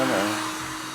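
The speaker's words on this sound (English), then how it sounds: "Gotta wait for the heat gun to heat up." A heat gun heats up with a loud, steady airy blowing hiss and a faint tonal whine, close by and alone.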